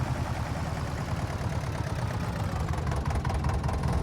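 A farm engine runs steadily and close by, its loud low rumble and rapid knocking pulse holding constant throughout with no talk.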